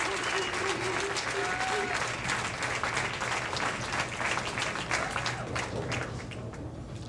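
Crowd applause at a 1993 senior professional bowling championship after a strike, sustained clapping throughout with a commentator talking over it.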